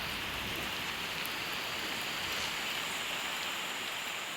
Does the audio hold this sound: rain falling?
yes